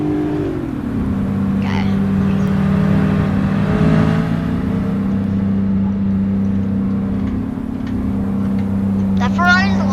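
A car engine hums steadily in the Roblox game Greenville, cruising at an even speed near the speed limit, with a brief spoken word over it.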